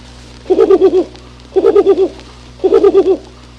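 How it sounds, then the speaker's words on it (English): An owl hoots as a sound effect in a Winnie the Pooh story, three loud, close phrases of soft rhythmic hoots, each separated by a short pause, with no talking. "owl flew in and settled on a branch in front of Pooh"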